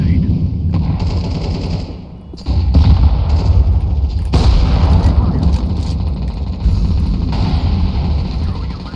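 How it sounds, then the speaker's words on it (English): A grenade is thrown and bursts in a first-person shooter game, a loud blast landing amid steady background gunfire and booms, with the noise level jumping sharply as it goes off. "I'm throwing a grenade."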